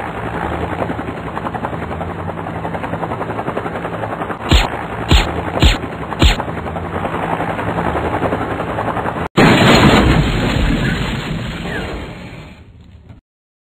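A video game highway shootout mixes a loud, steady helicopter rotor drone with four sharp, evenly spaced bursts of M4 gunfire, followed by a heavy blast and then a fading roar before silence.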